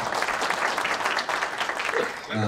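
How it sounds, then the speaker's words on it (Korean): An audience applauds at the founding general meeting of a Korean motorcycle management association held at the National Assembly Library, a dense burst of clapping at steady volume that trails off at the very end. "여러분 큰 박수 보내주시면 고맙습니다."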